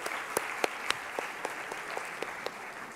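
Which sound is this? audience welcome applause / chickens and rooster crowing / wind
audience welcome applause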